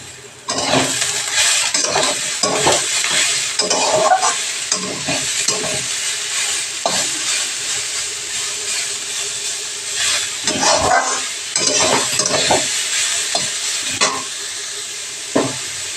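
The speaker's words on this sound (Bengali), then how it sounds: "আর একটু গাজর, এগুলোকে ভেজে নেব।" Onions, green chillies, ginger and carrot fry in oil in a pan for masala idli. A continuous close sizzle runs throughout, punctuated by repeated scraping and stirring clatters, with no talking.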